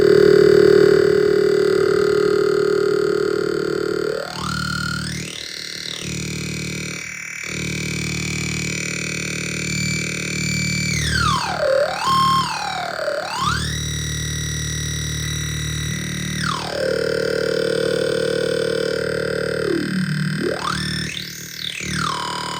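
A distorted synthesizer tone from a Eurorack filter module with feedback distortion sweeps up and down as its filter opens and closes, gritty and loud, gliding between low growls and high resonant squeals.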